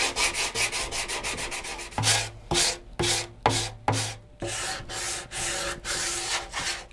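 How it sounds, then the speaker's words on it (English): Hand sanding of pore-filled wooden steel-string acoustic guitar sides down to 320 grit: a quick run of short rubbing strokes, then longer, louder back-and-forth passes in a steady rhythm, close and alone. "I'll see you in a few minutes when I start to sand"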